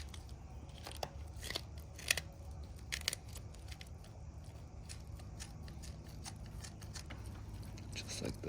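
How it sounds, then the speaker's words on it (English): Scissors snip repeatedly down the belly of a freshly caught striped bass while it is cleaned, making sharp, close, irregular crunching cuts, with a voice talking now and then. "Then I run the scissors down the belly like this."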